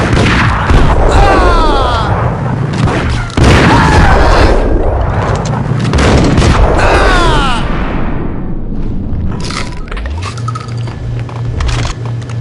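Gunfire in Max Payne rings out in a dense, loud burst of sharp shots and booms, with voices shouting over the fighting before the action fades into a quieter stretch with a low hum.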